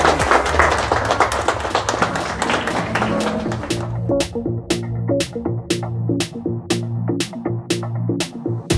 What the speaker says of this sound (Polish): A ja poproszę o wielkie brawa dla wszystkich zawodników